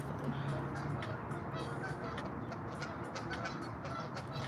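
Geese honk repeatedly through a noisy outdoor scene, their calls blending into a dense, continuous background of flock sounds.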